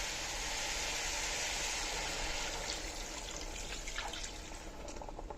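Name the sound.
water being added to sauteed frozen spinach in a pan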